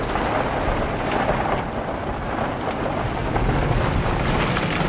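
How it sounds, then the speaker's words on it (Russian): Heavy rain pours steadily onto a car during a riverside fishing trip, a dense continuous hiss and drumming heard from inside the vehicle, loud and unbroken throughout with no talking. "Смотрите, поливает как."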